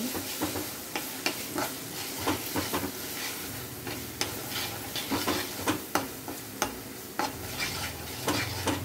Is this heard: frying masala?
yes